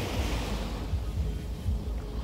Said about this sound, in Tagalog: Ay, tabing dagat.